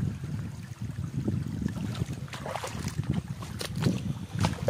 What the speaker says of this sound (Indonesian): Ada angin ada.